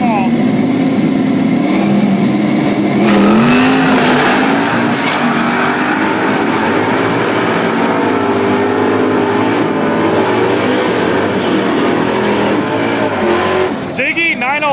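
Two drag race cars launch and roar past, a naturally aspirated big block against a twin turbo small block. The engine noise is loud, with rising revs and a pass, and crowd noise and an announcer's voice sit underneath.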